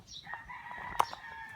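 A rooster crows at a distance on a farm with Texas chickens and hens, its long call drawn out over faint farmyard background noise, with a brief sharper sound cutting in near the middle.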